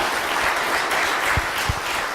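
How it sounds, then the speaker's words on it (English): Church congregation applauding at a Sunday service in a Methodist church, a steady wash of clapping from many hands at moderate level, with a couple of low thumps near the end and no talk. "So let's give them a round of applause."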